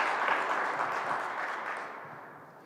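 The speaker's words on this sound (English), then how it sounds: "give yourselves a round of applause for all the help in making this possible" Audience applause at a governor's press announcement: a dense, steady wash of clapping that slowly fades out over a few seconds.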